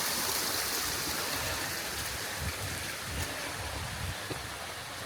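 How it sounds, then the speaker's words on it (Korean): A clear mountain stream flows beside a hiking trail in the hills near Boseong, a dense, steady rushing and splashing of water close by, continuous and even throughout with no voices. "맑은 물소리와 새소리가 어우러져 산객의 발걸음을 더욱 가볍게"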